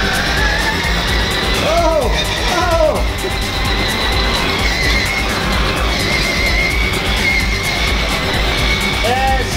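A 2019 La Ferrari FXX R electric ride-on kids car driving, a steady whirring motor hum with a few brief squeaky chirps, accompanied by voices speaking nearby.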